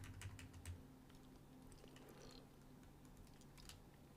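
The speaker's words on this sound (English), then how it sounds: "Get tired of typing those things in" Quiet, rapid computer keyboard typing with uneven bursts of key presses, close-miked and soft, during C++ programming work on a computer, with no talking.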